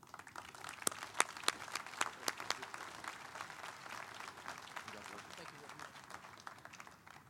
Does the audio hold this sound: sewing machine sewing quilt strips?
no